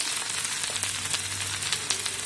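Okra frying in hot oil makes a continuous close hiss with scattered pops and crackles at a low, even level.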